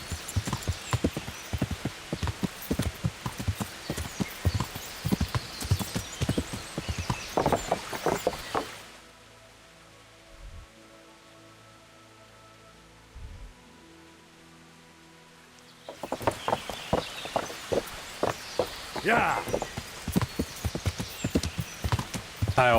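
Rapid clip-clop of galloping hooves, steady and close, with a brief quieter stretch in the middle before the hoofbeats resume; a voice briefly speaks.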